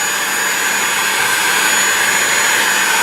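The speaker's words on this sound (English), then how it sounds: "Now we're taking a heat gun, and you want to heat up the edges evenly as you can to soften up the glue." Heat gun warming the edges of a Nissan 300ZX headlight to soften the glue, a loud constant blowing roar with a steady whine, running close and unbroken throughout.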